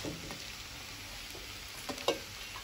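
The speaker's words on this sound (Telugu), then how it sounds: "ఉల్లిగడ్డలు పచ్చిమిర్చి కూడా వేసేసాము కదా" Onions and green chillies frying in a pan, giving a faint, steady sizzle throughout with a couple of small stirring clinks near the end, no voices.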